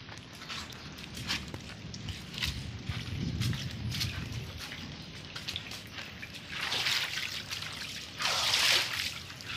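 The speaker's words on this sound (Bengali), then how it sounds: "প্রচণ্ড রকমের বৃষ্টিতে সব কিছু ভিজতেছে।" Rainwater trickles and splashes across a flooded rooftop during a torrential downpour in Pakistan, a steady close wash of water with louder surging gushes toward the end, no voices.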